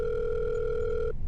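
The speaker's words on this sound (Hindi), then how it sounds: "मैंने तुषार को फोन लगाया।" A phone call's ringing tone, a steady two-pitch electronic tone held for about a second before cutting off, with faint background hiss after.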